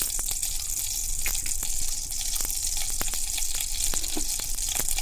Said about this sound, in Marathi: आता आपण पॅन तापायला ठेवला, तूप टाकूया